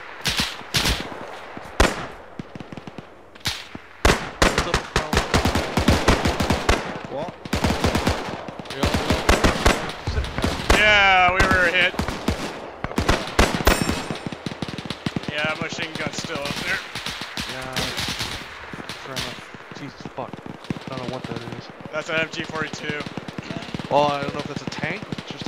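Rapid bursts of machine gun fire in a WW2 video game battle, repeated loud volleys with dense crackling gunfire throughout, while players talk over the shooting.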